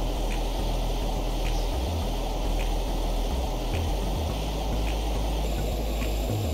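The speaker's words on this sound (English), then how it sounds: "You can hear the engines" Rocket ship engines in the Stormworks video game run at full throttle, giving a constant loud, rushing roar with a low rumbling undertone and faint rhythmic ticks, steady throughout and alone without talk.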